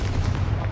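A short, muffled blast from the Confringo blasting spell in Hogwarts Legacy, heard as a low rumbling boom that stays steady and close for under a second.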